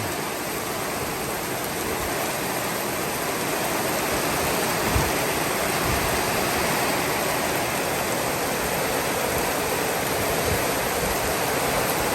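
Heavy rain pours steadily during a storm, a dense continuous hiss at constant loudness throughout with a few soft low thumps, and no voices.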